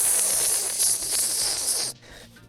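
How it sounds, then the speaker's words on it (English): Loud, continuous hiss of sizzling in the video game Chibi-Robo, broad and bright, holding steady before cutting off abruptly near the end, with no talking. "listen to that sizzle"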